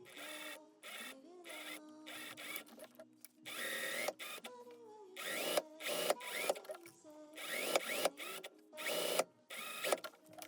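Sewing machine closing the darts of an everyday blazer, running in repeated bursts of rapid mechanical stitching with short pauses between runs, close and fairly loud.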